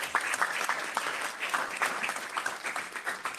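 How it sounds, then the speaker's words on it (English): Steady applause from a conference audience honouring two panellists, dense clapping running at an even loudness from start to finish with no talk. "How about a round of applause for Philippe and Gloria?"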